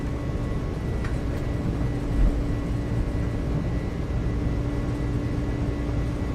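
In Microsoft Flight Simulator, the jet engines of an A300-600R at takeoff thrust make a steady low roar and rumble, moderately loud and unbroken throughout.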